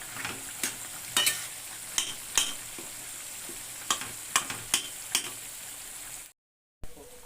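Chutney bubbles and sizzles in a pan under a continuous hiss, punctuated by a series of sharp scrapes and clacks as a spoon stirs it, then a brief silence near the end.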